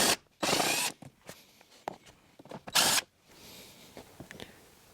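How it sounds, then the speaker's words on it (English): Ratcheting and mechanical turning as 10mm bolts come out of the hybrid battery vent on a Lexus RX400h/RX450h, in two loud broadband bursts separated by quieter clicks and handling noises, close up with no talk. "There are two 10mm bolts right here on each of the vents. Let me take those out"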